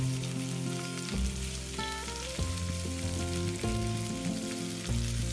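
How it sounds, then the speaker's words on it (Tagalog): Pork ribs sear in a little oil in a wok, batch by batch, making a steady close crackling sizzle throughout, with soft background music underneath. "I-sear lang natin by batch itong pork ribs hanggang sa medyo mag-light brown ang kulay."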